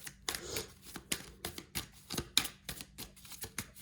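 Oracle cards are shuffled and drawn by hand, a run of quick, crisp riffling flicks and slaps in an irregular rhythm, close and fairly quiet, with no speech.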